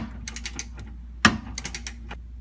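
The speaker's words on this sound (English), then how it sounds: "We're going to use a 17mm socket, and I'm going to take the nut out" A ratchet wrench with a 17mm socket loosens the lower nut on a rear shock of a 2003 Acura MDX, giving a short burst of quick clicks near the start, one sharp metallic clack midway, and another run of clicks after it.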